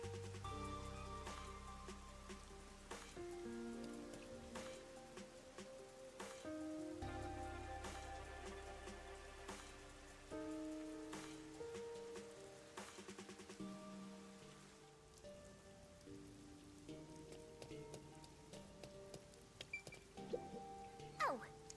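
Constant rain falls in the video game Master Detective Archives: RAIN CODE, a steady soft patter of drops on surfaces running beneath game music throughout.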